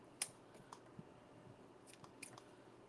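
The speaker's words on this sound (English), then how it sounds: "I'm just going to use the scissors." Scissors snipping through modeling clay for fake bakes, a few faint, sparse, isolated clicks and crunchy snips in an otherwise quiet room.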